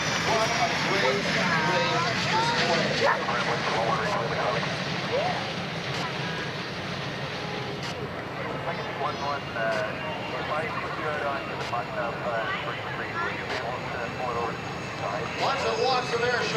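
An EA-18G Growler jet flying an airshow demonstration at London, Ontario, its engine roar rumbling steadily in the distance beneath an announcer's continuous commentary and crowd noise.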